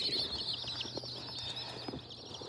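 Chicks shipped from Texas peep inside a postal shipping box, a dense, continuous chorus of high chirps close by with faint rustling underneath.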